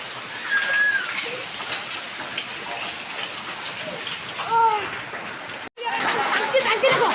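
Heavy rain with hailstones pouring down, a dense steady hiss and patter close by, with faint bird chirps and a brief dropout near the end.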